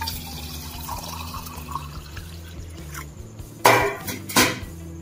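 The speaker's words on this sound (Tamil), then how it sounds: "இப்போ இதுக்குள்ள நான் தண்ணி ஊத்துறேன்." Water poured into a stainless steel vessel whose hole has been patched, a soft splashing trickle over steady background hum, ending in two brighter splashes.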